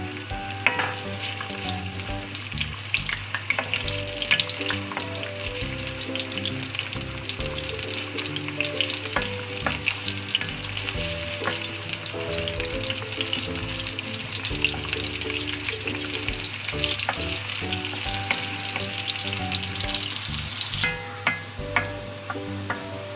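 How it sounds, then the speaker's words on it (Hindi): Onions brown in a cup of oil, a dense, continuous sizzle and crackle heard close and alone for over twenty seconds, with occasional clicks and stirring sounds. "1 कप ऑयल में प्याज ब्राउन करने हैं।"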